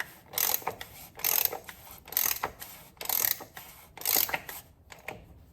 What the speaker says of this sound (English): We're going to finish tightening this up with our oil filter flute tool and socket wrench